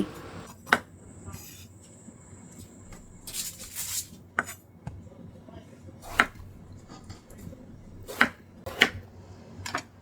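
A knife chops eggplant into pieces on a cutting board, sharp separate knocks spaced irregularly over several seconds, close by, with faint clinks of utensils between cuts.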